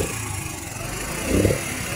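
A Honda CD 80 motorcycle engine, its carburetor freshly serviced, runs at a steady idle and then gives one brief rev before settling back down.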